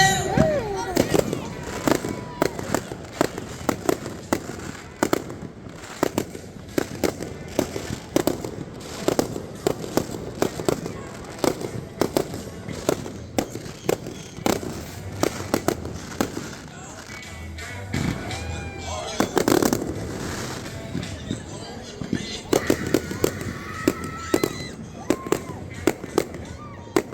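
Fireworks display at a minor league baseball game: dense, continuous booms and crackling bursts over about half a minute, loud and close, with crowd voices and talk mixed underneath.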